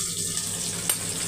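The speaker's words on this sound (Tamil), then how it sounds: "ஒரு 5 நிமிஷம் அப்படியே வதங்கட்டும்" Pieces of pumpkin sauté in hot oil in a pan, cooked without onion or garlic. A steady, close sizzling hiss runs throughout the moment without a break.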